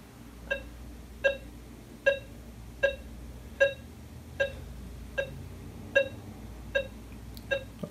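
A Minelab Gold Monster 1000 metal detector signalling over gold, giving about ten evenly spaced electronic beeps against a low background hum.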